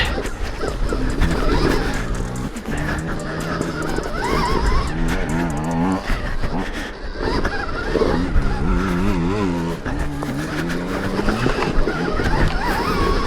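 A Stark Varg electric dirt bike being ridden, with a whining motor that rises and falls in pitch while tires scrub over dirt, loud and close throughout.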